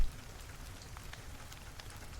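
Soft rain falling in a steady hiss, with scattered faint drips and patters standing out now and then, heard alone with no voices.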